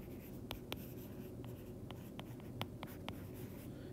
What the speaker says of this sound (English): I'll just write that.